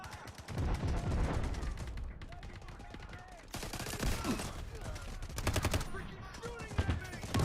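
Gunfire in the BGIS battle royale game, dense rapid automatic bursts in long rattling runs with short gaps, loud and close, voices talking underneath.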